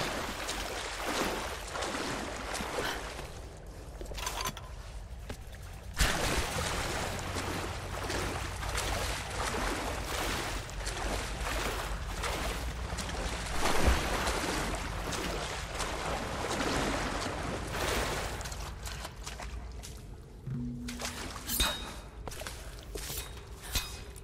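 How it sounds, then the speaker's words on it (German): Water churning and splashing steadily as Lara Croft wades through water in Tomb Raider, continuous sloshing with irregular louder splashes over about twenty seconds, close by and without speech. "Wenn ich Wasser sehe, ich muss rein."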